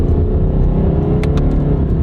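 A car engine held in second gear revs high and steady while a fuel additive cleaner runs through it, a loud sustained drone with a few faint higher whines on top and no voices.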